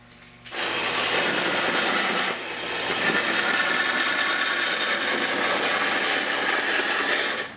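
A loud, steady sanding roar grinds against hard resin and Lego plastic up close, starting abruptly and continuing without pause.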